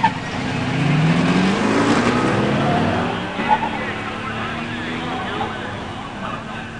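A 1969 Pontiac Trans Am with a Ram Air 4 engine and four-speed races a 1987 Mustang 302 automatic at a pure stock drag race, loud engine roar building then easing into a steady drone, with an announcer talking over it.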